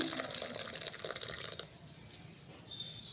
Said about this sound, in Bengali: এরপর ছানাটাকে ঢেলে দিচ্ছি আমি